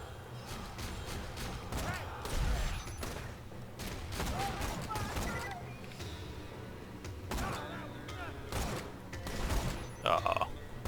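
Rapid gunfire in Borderlands 2, fired by Maya in a fast stream of shots with mechanical clatter between bursts, moderately loud, while a person talks over much of it.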